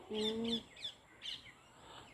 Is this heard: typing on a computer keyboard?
no